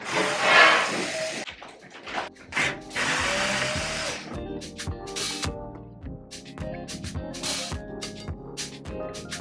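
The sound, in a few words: sanding the sides of a wardrobe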